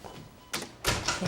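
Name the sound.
door closing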